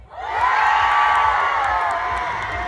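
Local residents in an outdoor festival crowd in Yangpyeong roar with cheers and high whoops, a loud sustained wall of voices that swells at the start and holds.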